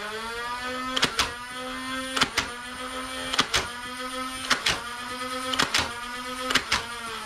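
A Nerf Ultra 2 motorized revolver blaster fires darts, with a sustained whirring motor whine broken by six evenly spaced sharp thunks about one second apart.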